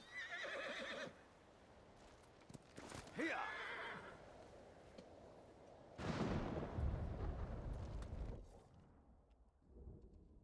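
A horse in Ghost of Tsushima whinnies loudly, then a second long neigh follows amid hoofbeats and rumbling game effects, with a brief loud burst near the end.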